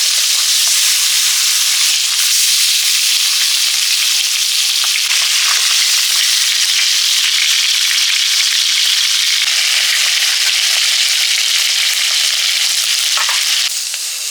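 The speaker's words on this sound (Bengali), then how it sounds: "মাছের পেটিগুলো ভেজে নিচ্ছি আজকে সবই পেটি দিয়েই রান্না হবে" Pieces of rupchanda (pomfret) belly sizzle and crackle steadily in hot oil, a loud continuous frying hiss with occasional pops, no talking.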